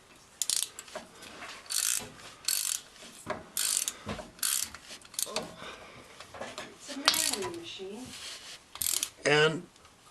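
A ratchet tightens the rear differential plug on a Mazda B4000 (Ford Ranger), giving a series of short, close clicking bursts with brief pauses between them and a few metallic clanks near the end.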